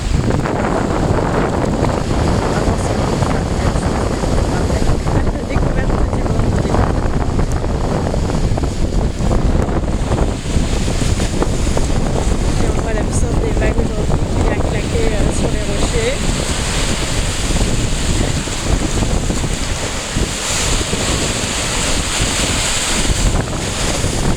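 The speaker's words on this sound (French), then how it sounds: "L'océan." Ocean waves and strong wind on the Portuguese coast near Lisbon, a steady loud wash of surf with heavy wind buffeting the microphone throughout, no voices.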